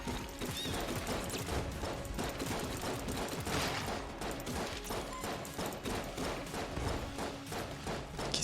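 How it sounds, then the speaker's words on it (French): Dense rapid gunfire and crashing effects from the bullet-hell video game Enter the Gungeon, a steady loud barrage of overlapping shots and impacts with no pauses. "Qu'est-ce qui nous tire dessus?"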